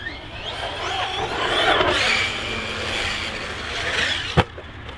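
An ARRMA Kraton 6S BLX V4 2019 radio-controlled car drives and accelerates hard with a steady, raspy electric-motor whine and tire scrabble, ending in a sharp knock from a landing or impact.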